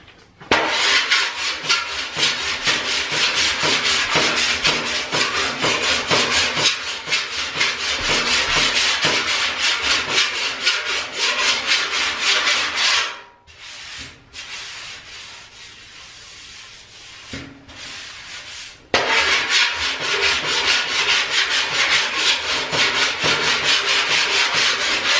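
Steel car body panel being filed by hand during metal finishing, a loud, close, continuous rasping scrape in steady strokes that stops briefly mid-way before resuming.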